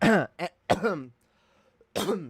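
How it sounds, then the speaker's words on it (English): A few hoarse, strained bursts of coughing and throat clearing up close, with short pauses between them. "I had like a cough, but I like suppressed it, and then I like choked on it"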